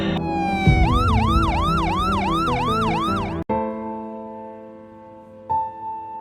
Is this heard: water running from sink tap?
no